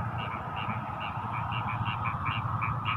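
Frogs croak in a rural Javanese setting, a steady chorus of short repeated calls at a fairly even rhythm over a low background hum, moderately near and continuous.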